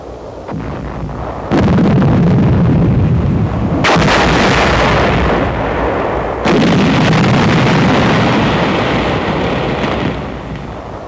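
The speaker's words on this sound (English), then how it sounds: "An explosive charge in a 5-gallon gasoline can is improvised to blast an enemy position." An improvised explosive charge packed in a 5-gallon gasoline can blasts an enemy position in 1945 wartime combat footage, with three loud booming detonations, each followed by a long rolling rumble.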